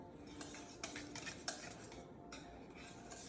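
A utensil clinks and taps against a bowl while pumpkin pancake batter is being mixed, with irregular light strikes and scrapes, close but fairly quiet, no talking.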